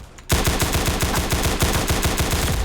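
Automatic gunfire in CS:GO Roblox: a loud, rapid, evenly spaced burst of shots starts abruptly and continues without pause, close and alone.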